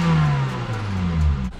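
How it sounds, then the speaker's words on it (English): Manual stick-shift car engine revving steadily at close range, with a low droning tone that rises and falls slightly over a short burst, no talk. "Rev her up, she sounds good."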